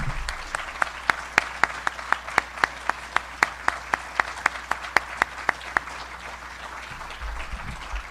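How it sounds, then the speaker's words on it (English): Applause at an awards celebration rises as a round of regular claps for about six seconds, then fades into room murmur. "give them a round of applause."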